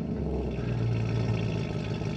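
A 2006 Maserati Quattroporte 4.2 V8 revs in neutral, giving a close, deep engine roar that swells briefly in the middle and then settles back to a steady rumble.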